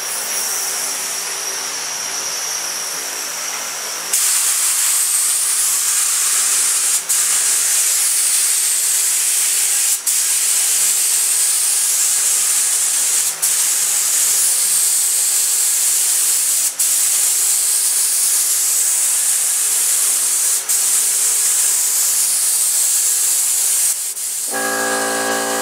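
A spray gun lays clear coat onto a car during a home paint job, a loud steady airy hiss that starts abruptly after a quieter stretch, runs in long continuous passes broken by brief pauses, then cuts off near the end.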